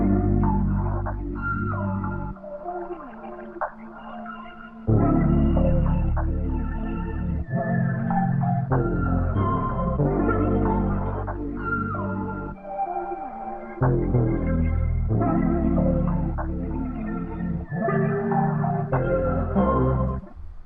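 A vintage analog-style music sample built in FL Studio plays as a looping R&B-flavoured passage with warm, muffled tones, deep bass and a repeating phrase that restarts every few seconds, with no voices.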